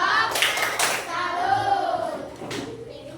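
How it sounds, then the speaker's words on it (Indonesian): Children in an Indonesian classroom perform a tepuk salut rhythmic salute clap, a short patterned run of hand claps mixed with young voices chanting along, close and fairly loud. "Tepuk salut"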